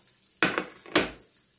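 Two quick bursts of frying come from a pan as beaten egg for a Thai omelette hits hot oil, each a short close hiss that fades away.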